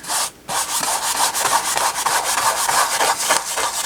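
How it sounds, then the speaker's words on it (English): Brush rubbing turquoise paint into a canvas, a steady, scratchy, rhythmic scrubbing with repeated short strokes, close and fairly loud, with no talking. "And I'm just kind of rubbing that in."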